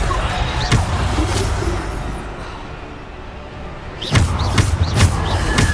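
In Hogwarts Legacy, the Descendo spell slams an enemy to the ground with heavy, booming thuds over a dense combat din, first one impact and then a tight cluster of loud slams near the end.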